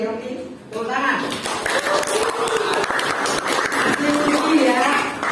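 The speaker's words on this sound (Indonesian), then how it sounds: "Tepuk tangan." Students in a classroom clapping together, a brisk round of close, ragged hand claps lasting about five seconds, with voices talking and calling out over the applause.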